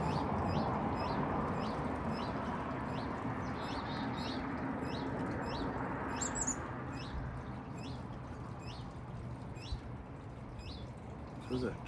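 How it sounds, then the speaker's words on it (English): A small bird, a chickadee or nuthatch, gives thin, high chirps in a steady repeating rhythm, faint and somewhat distant outdoors by a deck over a continuous background hiss. "Was that a chickadee or a nuthatch?"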